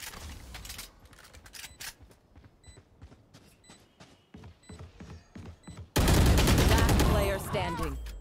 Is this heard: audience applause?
no